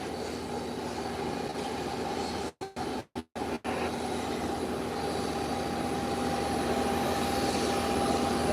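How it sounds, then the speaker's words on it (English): An airplane rolls toward the runway threshold ahead of takeoff, its engine producing a steady loud drone with a sustained tone and a few brief gaps in the middle. "it's heading to the threshold of the runway in preparation for takeoff"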